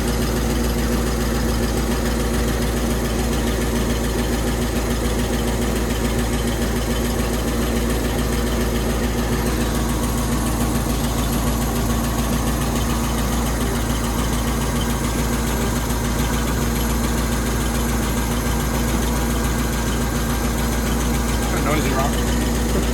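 A Jeep CJ5 engine idles with a constant, loud, steady rumble that fills the whole stretch without pause, and voices can be heard over it.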